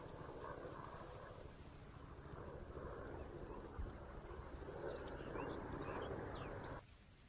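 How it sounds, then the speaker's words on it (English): A helicopter in the military shooter game Arma 3, a steady low rotor drone with continuous pulsing chop, moderately loud and sustained before cutting off abruptly near the end. "Helicopter."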